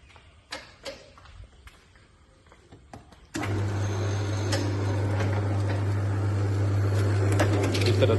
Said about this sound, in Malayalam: അപ്പോൾ നമുക്ക് മെഷീൻ ഒന്ന് ഓൺ ചെയ്യാം.